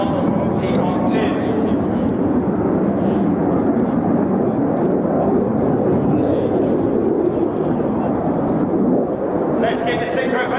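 Red Arrows jets fly a double rolls manoeuvre in formation at the RIAT air show. A heavy, steady jet roar fills the whole stretch, loud and continuous.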